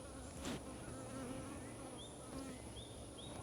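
Honey bees droning steadily around an open hive frame during a beekeeping inspection, a continuous close buzz with individual bees whining past now and then.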